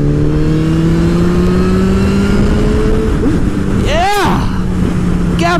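Honda CBR1000RR sport motorcycle engine holding a steady drone, then revving hard with a rising, sweeping pitch around the four-second mark and again near the end, loud and close under rushing wind.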